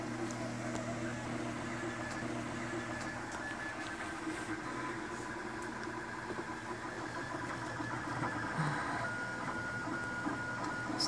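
A 12x12 RepRap Mendel Prusa 3D printer runs its first test print, its stepper motors whining and buzzing continuously with shifting tones, close and steady without talk.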